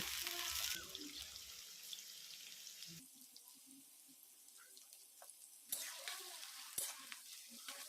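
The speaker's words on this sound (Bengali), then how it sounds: "এবার পেঁয়াজটা আমি ভেজে নেব। পেঁয়াজটাকে আমি ভালো করে লাল লাল করে বেরেস্তা করে ভেজে তুলে নেব।" Sliced onions sizzle loudly in hot oil in a wok, frying until deep brown and crisp for a Bengali fish kalia, with stirring scrapes and bursts of crackle that swell and fade.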